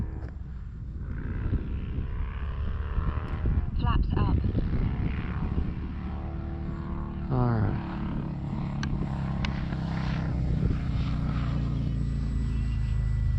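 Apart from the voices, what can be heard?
E-flite Cirrus SR22T RC model airplane flying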